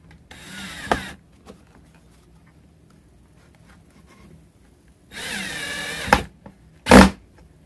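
Power drill driving a fully threaded screw into wood in a workshop, with short whirring bursts separated by quiet pauses, the last burst sharp and brief, heard up close.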